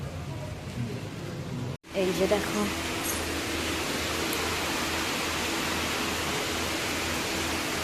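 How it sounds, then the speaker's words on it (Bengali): Heavy rain falls in a dense, steady roaring hiss that fills the space close by. A brief spoken remark comes just before a short break in the sound. "বেশ জোরে বৃষ্টি হচ্ছে"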